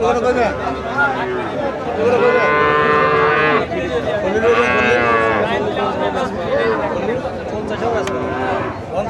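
Friesian cow mooing at a busy cattle market, long loud drawn-out moos recurring close by over a constant background of crowd babble.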